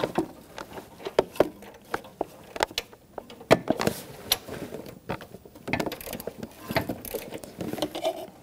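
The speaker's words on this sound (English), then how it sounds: "then I will get my O2 sensor socket and tighten it down" Metal O2 sensor socket and ratchet tightening an upstream oxygen sensor on a 1997-2006 Jeep Wrangler 2.4L four-cylinder, giving close, irregular clicks, taps and small mechanical rattles.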